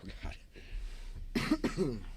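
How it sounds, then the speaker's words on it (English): A short, sharp cough cuts in after a stretch of quiet talk, followed by more speech close to the mic. "Got that smoker's cough?"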